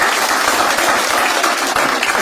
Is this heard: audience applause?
yes